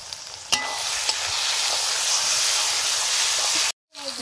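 Water poured into a hot pan of spice masala with turmeric and chilli sets off a loud, sustained sizzle and hiss, a couple of sharp spatula knocks, and a brief drop to silence near the end.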